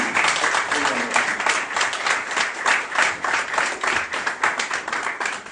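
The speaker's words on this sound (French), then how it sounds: "j'aimerais qu'on applaudisse très très fort Monsieur Kofi Olomide" A crowd applauds Koffi Olomide at a question session with fans, fairly loud clapping that pulses in uneven bursts, with voices faintly mixed in beneath the hands.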